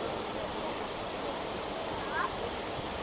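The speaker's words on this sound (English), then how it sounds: "Horsetail Waterfall." Horsetail Falls in Oregon's Columbia River Gorge, a steady broadband rush of falling water pouring into a swimming hole, constant and fairly distant, with a faint brief voice-like chirp near the end.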